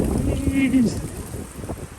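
Steady outdoor wind rumble buffeting the microphone in Berlin, with faint background activity and no clear voices.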